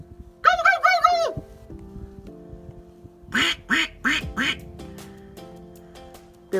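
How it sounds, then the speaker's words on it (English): Ten to twenty wild turkeys in a front yard give a burst of loud harsh calls near the start and a run of four or five sharp calls midway, over a low steady hum. "10 to 20 turkeys in our front yard."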